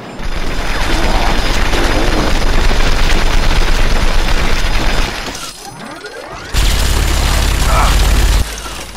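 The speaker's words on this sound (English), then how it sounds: "fire a few bullets and then run away." Loud, sustained gunfire from the video game Fallout 3 rattles densely in two long stretches with a short quieter gap between, mixed with mechanical clatter.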